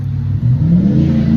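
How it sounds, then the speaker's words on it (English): A car engine revs loudly and continuously, its pitch climbing steadily as it accelerates, close and alone with no talking. "the toxic masculine revving of the engine"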